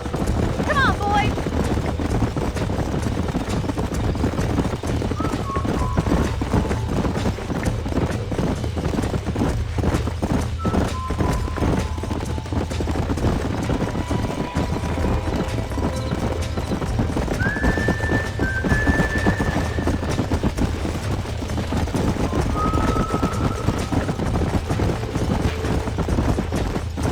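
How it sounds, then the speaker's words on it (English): Steady clip-clop of horse hooves galloping continuously in the video game Red Dead Redemption, with a horse whinnying over a busy outdoor background and occasional voices. "These are fine horses."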